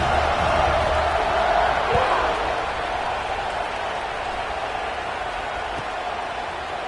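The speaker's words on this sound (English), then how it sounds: "this crowd is buzzing after that last score" A football stadium crowd keeps up a steady, broad murmur after a touchdown and extra point, loud and continuous throughout, with faint voices mixed into the wash.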